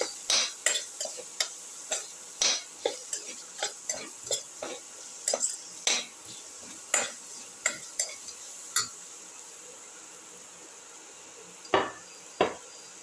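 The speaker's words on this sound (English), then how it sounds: "Put in a spoon of chili powder. Thoroughly mix." A spoon stirs chili powder into cauliflower and ginger in a pan, giving a series of crisp scraping strokes in an uneven rhythm, close up, over a faint background sizzle.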